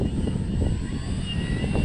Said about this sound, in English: All right, get turned around here and we will take off into the wind.